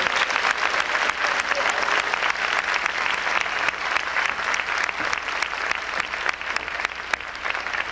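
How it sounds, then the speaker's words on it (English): Audience of parents and children at a 1987 school program applauding, with steady, loud, continuous clapping from a crowd that lasts throughout. "I think we need to give a special round of applause."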